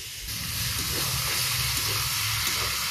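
Water poured into a hot pan of frying turmeric-spiced vegetables sets off a loud hissing rush of steam that swells quickly and then holds steady and close.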